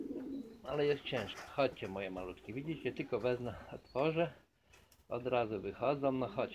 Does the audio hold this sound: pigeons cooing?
yes